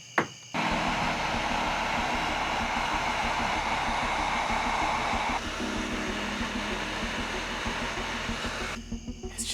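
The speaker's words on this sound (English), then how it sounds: "why is heat shrinking something so satisfying?" A heat gun blows steadily as heat-shrink tubing is shrunk onto inverter cabling in a converted work van, a close, loud, continuous airy whoosh that starts after a short pause and holds until near the end.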